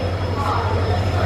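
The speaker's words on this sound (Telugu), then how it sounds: "సో మా ట్రైన్ వచ్చేసింది." The Rayalaseema Express pulls into a railway station bound for Tirupati, a steady low rumble and hum of the arriving train under nearby chatter on the platform.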